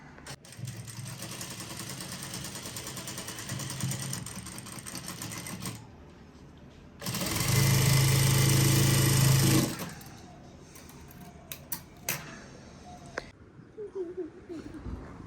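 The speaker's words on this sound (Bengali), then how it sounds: "তো চলো আরেকবার সেলাই দিয়ে নিই।" An electric sewing machine stitches in short whirring bursts, with a louder sustained run in the middle, set among quiet workshop sounds and sparse clicks.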